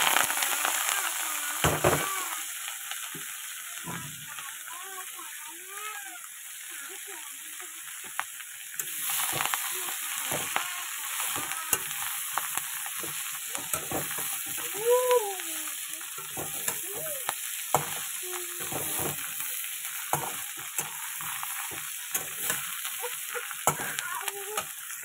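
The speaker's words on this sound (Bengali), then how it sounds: "তেল ছিল, তার মধ্যে দিয়ে দিলাম রসুন আর শুকনো লঙ্কা ফোড়ন। শাকটা আবার বসিয়ে দেবো।" Leafy greens frying in oil with garlic and dried chili tempering, a faint steady crackle and sizzle with intermittent utensil knocks and stirring, and a few brief voices in the background.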